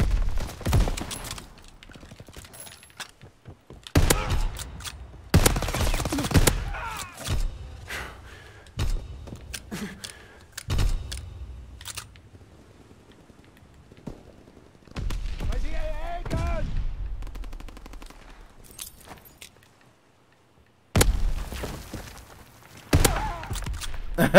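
Shotgun blasts in the Call of Duty video game (2021 edition), a string of loud, sharp bursts spread unevenly across the stretch, mixed with other game sounds and a voice talking between shots.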